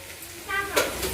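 Chicken and onion frying in a pan while being stirred, a steady close sizzle with a scraping stir sound swelling midway, no talk.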